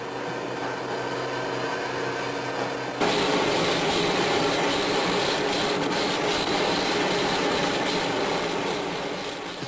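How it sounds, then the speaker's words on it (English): A high-speed carborundum wheel cutting through a gold pen nib, a loud continuous whining grind that grows harsher and denser partway through and holds steady to the end. "A high-speed carborundum wheel cuts through a gold nib in microseconds."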